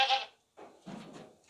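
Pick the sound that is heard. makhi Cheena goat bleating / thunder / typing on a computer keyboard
makhi Cheena goat bleating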